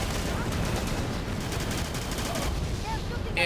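Minigun fire in the video game Battalion Wars, a dense continuous roar of rapid gunshots with explosions, sustained loud throughout.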